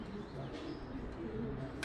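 A working pigeon coos softly in low, repeated throaty notes, fairly faint against steady background hiss.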